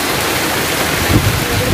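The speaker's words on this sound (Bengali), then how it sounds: "রোজ আমরা বেরোতে যাব ঠিক ওই সময়ে বৃষ্টিটা নামে" Steady rain pours down in a continuous broadband hiss, loud and close, with faint low rumbling beneath and no clear voices.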